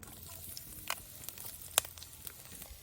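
Crushed ginger and garlic fry quietly in coconut oil for a fish curry, a faint soft sizzle with a few sharp pops and spatters.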